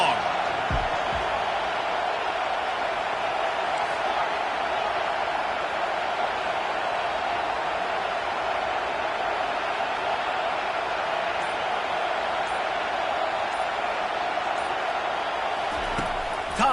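Steady roar of a football stadium crowd on third and long against UF, a dense continuous wash of cheering and noise holding level throughout, loud and unbroken.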